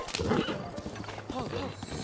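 Horse hooves clip-clop at a steady trot in the video game Zelda Breath of the Wild, close and continuous, with a voice talking over the hoofbeats.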